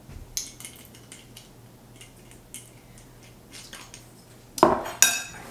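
A spoon scraping and clinking against a bowl while a sugar and vanilla filling is mixed, producing light irregular taps with a couple of louder clanks near the end and no speech.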